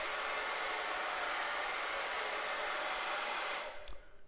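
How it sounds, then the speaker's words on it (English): A hair dryer blows steadily and close while drying acrylic paint, a loud even whoosh that stops abruptly near the end. "Do you guys know about your cold button on your hair dryer?"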